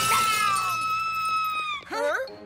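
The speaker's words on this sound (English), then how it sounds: "you broke my mirror." Cartoon glass mirror shattering at the start, a bright burst of breaking glass that rings and fades, followed by a drawn-out wailing cry and then a short voiced exclamation.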